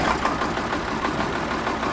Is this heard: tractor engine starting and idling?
yes